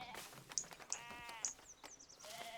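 Sheep on a farm field in the PC game Endure bleat several times with short, wavering calls, fairly quiet and mixed with small chirpy game sounds, with no one talking.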